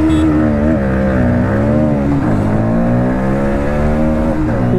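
Two motorcycles, a TVS Apache RTR 160 4V and a Bajai Pulsar NS160, drag racing side by side, their engines revving loud and close with rising and falling pitch as they accelerate through gears.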